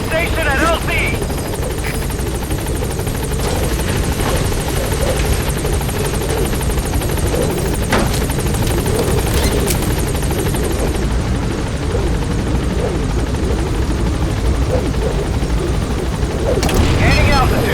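A support helicopter in Metal Gear Solid V: The Phantom Pain lands and lifts off at a landing zone, its loud steady rotor roar filling the whole stretch, with radio voices and a few sharp booms over it.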